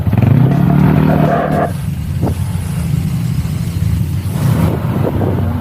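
A motorcycle taxi engine drones loudly during a ride on the road toward Baler, Aurora, steady and close with swelling revs and constant road rumble.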